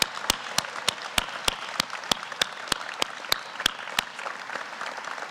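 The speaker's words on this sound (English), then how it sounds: "Let's give them all another big round of applause." Alumni and guests at the 83rd annual Alumni Award of Merit gala applaud the 2017 award winners with steady, full crowd clapping, punctuated by sharp, evenly spaced clicks.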